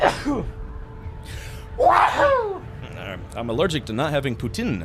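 A single sharp sneeze bursts out near the start during a chat while playing Dune: Awakening, followed by another exclamation and then speech from the players.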